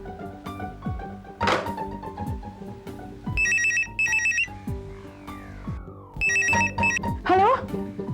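A telephone rings indoors in a Hindi TV comedy scene, bursts of bright electronic ringing tones over background music, with sliding effects between the rings.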